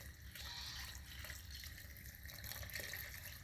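Water is poured from a tap into a bucket of chicken feed mash topped with mealworms: a steady, close splashing stream, fairly faint, running continuously for a few seconds.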